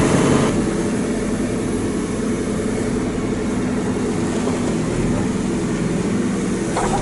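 The engine of a JCB 3CX Contractor backhoe loader idles steadily, a loud continuous diesel rumble heard from close by inside the cab with no voices.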